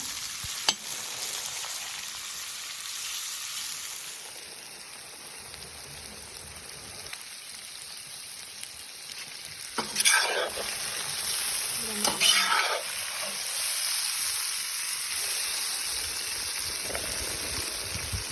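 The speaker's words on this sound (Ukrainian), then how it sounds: "реберця, що вам хочеться, і обжарюємо. Добавляємо туди цибульку." Pork ribs and onion fry in a cast iron kazan on an outdoor stove, a continuous close sizzle and crackle with louder bursts of stirring and spattering midway, no voices.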